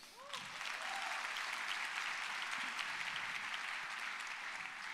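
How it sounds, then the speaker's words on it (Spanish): A church congregation applauds together, rising quickly into a sustained, even wash of clapping that holds steady, moderately distant and fairly soft, with a brief voice at the very start. "un aplauso al Señor"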